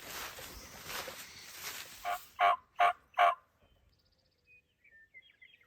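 Wild turkeys gobbling during a spring hunt in Nebraska, three loud rattling gobbles in quick succession from fairly close over a faint rustling background, followed by near silence with a few distant small bird chirps.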